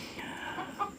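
Native hens cackling after laying eggs on a backyard poultry farm, a brief, fairly close burst of clucking with no talk over it.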